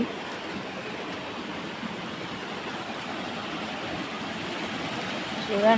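A waterfall at 108 Ramuni Gundalu, in rainy weather, gives a steady broadband rush of falling water that stays even and fairly close throughout, rising slightly at the very end.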